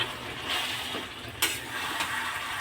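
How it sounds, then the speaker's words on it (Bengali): Meat with spices and oil sizzling and frying in a pan for a Bengali meat and vegetable curry, a steady close hiss with occasional stirring scrapes and clinks. "এটাও খুব ভালো করে কষতে লাগবে মশলাটার সাথে যাতে মশলাটা মাংসর গায়ে ভালো করে মিশে যায়"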